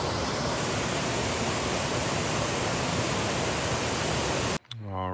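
Waterfall beside a campsite on the Appalachian Trail in Virginia, a steady, loud, close broadband roar of falling water that cuts off abruptly near the end.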